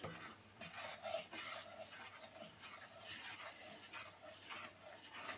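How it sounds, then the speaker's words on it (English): Besan being stirred into a pan for Mysore pak, a steady scraping and mixing with small clinks of a utensil against the pan throughout, fairly quiet and close. "I'm going to add this besan into this. And I'm going to mix this one very well."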